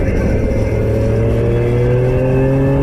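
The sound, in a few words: Triumph Street Triple RS motorcycle accelerating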